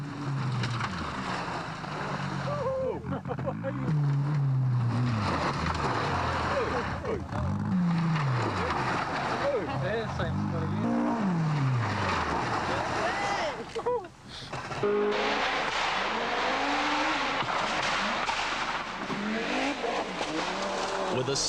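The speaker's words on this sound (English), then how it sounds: "Some of the lower order cars had some difficulty with one particular bend" Rally cars from a 1985 New Zealand rally skid and slide through a bend on a night forest stage near Tokoroa, engines revving and rising and falling in pitch one after another, with steady loud engine noise throughout and some talk.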